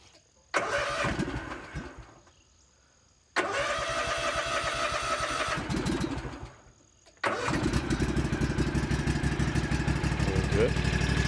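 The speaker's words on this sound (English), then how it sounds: "So I'll see how it goes with its first crank up." An Ariens APEX52KW zero-turn mower's engine cranks and catches twice, each run dying away, then starts a third time and settles into a steady, close, chugging idle; a voice speaks briefly near the start.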